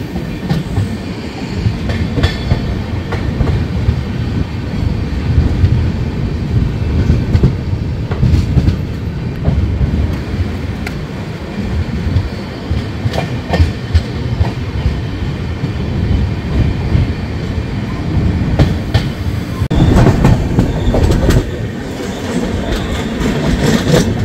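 The Rupasi Bangla Express sits at platform 1, running about an hour late, with a steady loud rumble of train noise and faint clickety-clack throughout the whole stretch and no speech.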